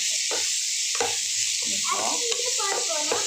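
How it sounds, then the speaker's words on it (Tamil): Tomatoes dropped into a hot pan for a brinjal and potato curry, giving a steady close sizzle with stirring scrapes and clatter, while voices talk faintly underneath. "ஷெர்லின் தக்காளி எடுத்து போடுங்க போட்டாச்சா"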